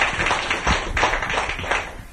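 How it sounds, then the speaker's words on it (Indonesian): A room of people at a planners' gathering in Surabaya claps in a dense, steady patter of overlapping hand claps lasting about two seconds, with no voices over it. "Jadi berikan tepuk tangan untuk Anda semua ya"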